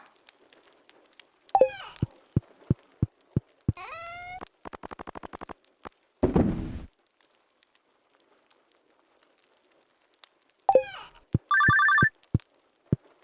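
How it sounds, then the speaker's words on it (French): Telephone ringing in the Stardew Valley video game at night, a few repeated electronic ring bursts spaced apart, mixed with chirpy game interface blips and tones. "le téléphone sonne à 1h du matin"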